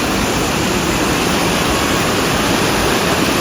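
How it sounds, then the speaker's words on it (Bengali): A waterfall on the Silk Route near Zuluk pours in a dense, steady roar of rushing water, loud and close with no break across the short stretch. "এই দেখো ফলসটা এখানে, আর এদিকে দেখো জলটা এখান দিয়ে যাচ্ছে জাস্ট।"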